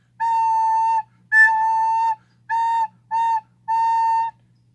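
A recorder plays five sustained notes on one pitch without tonguing, the air pushed from the stomach, so each note swells in softly; the notes are clear and close with short gaps between them.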